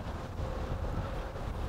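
Strong wind on a disc golf course buffeting the microphone, a loud, continuous low rumble with no voices.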